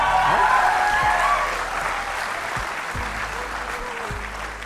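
An audience at a motivational talk breaks into loud, dense applause that stays strong for a couple of seconds, then gradually thins out and fades.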